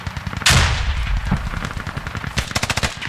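A grenade blast in a Squad game, a loud burst followed by rapid, close bursts of automatic gunfire and scattered shots throughout.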